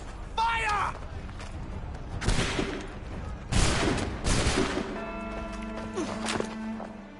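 Musket volley fire in the Assassin's Creed 3 Remastered video game, several sharp loud cracking bursts fired in quick succession amid mechanical clatter and movement, with a voice heard shortly before the shots.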